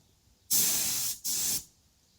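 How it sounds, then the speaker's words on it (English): A paint spray gun hisses in two close, loud bursts, about half a second and then a quarter second long, with a short gap between them, while painting the centrepieces of mag wheel rims. "notice how little overspray there is. Makes this gun extra special. Means you don't waste paint."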